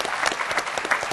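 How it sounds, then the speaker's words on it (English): Conference ballroom audience applauding, a short burst of dense, steady clapping throughout. "I think we should give your husband a round of applause for all his great work"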